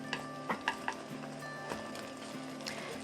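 Beaten eggs with chives cooking in a pan over low heat, a faint steady sizzle with soft scraping and tapping of a utensil gathering the edges inward.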